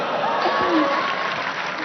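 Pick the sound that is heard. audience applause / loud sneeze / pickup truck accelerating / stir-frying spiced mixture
audience applause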